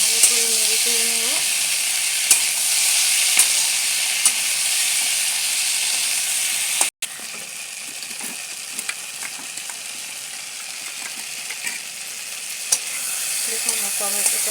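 Taro curry with softened tomato sautés in a pan, a continuous bright sizzle close by with soft stirring scrapes, a brief dropout midway, then the frying carries on steadily.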